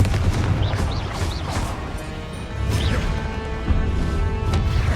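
Confringo explosion spells go off in the video game Hogwarts Legacy, sharp crashing blasts repeating amid dense spell effects and battle noise, loud and close.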